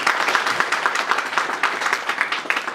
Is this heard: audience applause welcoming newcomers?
yes